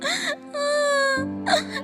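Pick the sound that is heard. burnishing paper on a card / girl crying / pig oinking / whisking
girl crying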